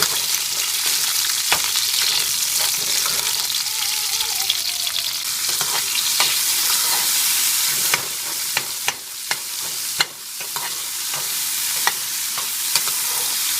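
Small onions, garlic and quartered tomato fry in sesame oil for horsegram chutney, a steady close sizzling hiss with frequent spatula clicks and scrapes against the pan throughout.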